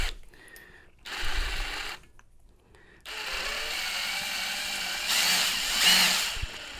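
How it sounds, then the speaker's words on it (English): A cordless drill fitted with a rivet gun attachment whirs in short bursts to set a 3/16 rivet, with a few on-off runs, brief pauses and a final strained, louder spin, close up and without talking. "So I'm going to put our rivet in, put the drill in reverse."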